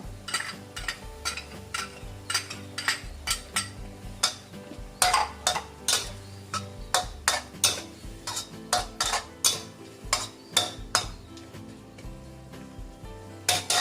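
Ginger pork stir-fry with mushroom sauce being stirred in a pan, a metal utensil scraping and clinking against the pan in a steady rhythm of sharp taps, close but fairly quiet.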